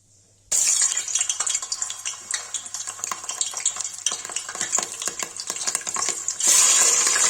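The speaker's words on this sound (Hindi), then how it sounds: "गाइस मटन फ्राई के लिए रख दिया है" Mutton frying in hot oil for a spicy mutton masala curry, starting abruptly as a loud crackling sizzle with dense pops and stirring scrapes, swelling into a hissing burst at the end.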